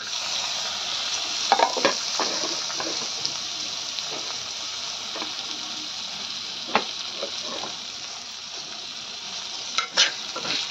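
Chopped dry fruits roast in ghee in a pan for rice kheer, giving a steady close sizzle with scattered scraping stirs and a few sharp clacks of the spoon against the pan.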